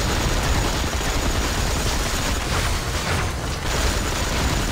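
Gunfire from the Marvel Heroes 2016 video game, a loud, dense wall of continuous shots and blasts that barely lets up, overwhelming everything else.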